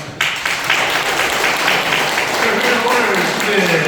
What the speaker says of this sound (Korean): 또 박수 한번 드립니다